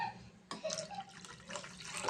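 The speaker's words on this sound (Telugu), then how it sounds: "కొంచెం వాటర్ వేసుకున్నాం ఫ్రెండ్స్." Water poured into a cooking pot holding tamarind extract for a Telugu-style fish curry, a brief splashing pour starting abruptly and running steadily for under two seconds, fairly close.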